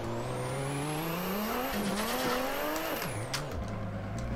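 Turbocharged Nissan Skyline R32 drifting in Assetto Corsa, the engine droning and revving with a whining turbo and tires squealing as the car slides, engine note dipping and rising near the end.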